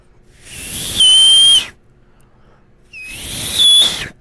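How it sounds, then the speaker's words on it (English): A person whistles two sustained high tones in a dark indoor setting, each note steady and clear, separated by a short quiet gap. "I can't whistle properly right now."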